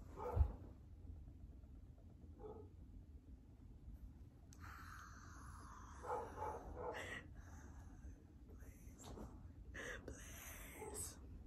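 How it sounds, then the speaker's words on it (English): Household dog barking and yipping in short scattered bursts indoors while laundry is folded, fairly faint and intermittent over a quiet room background. "We're gonna have to deal with the barking."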